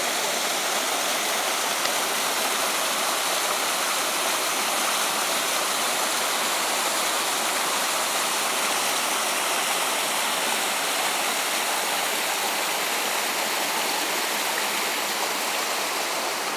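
Burbage Brook in Padley Gorge rushing beneath Yarncliffe Bridge, a loud, steady broadband roar of flowing water that stays constant throughout with no voices.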